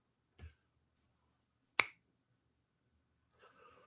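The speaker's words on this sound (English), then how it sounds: "When I snap my fingers" A single sharp finger snap rings out clearly near the middle, framed by a faint click just before it and a soft rustle afterward, in an otherwise quiet stage setting.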